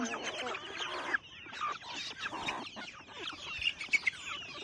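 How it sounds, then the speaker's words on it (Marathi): A group of free-range village hens clucks softly and chatters close by as they feed, with quick scratchy pecking noises and a few sharper chirps near the end. "बघा मित्रांनो कशा खात आहेत कोंबड्या"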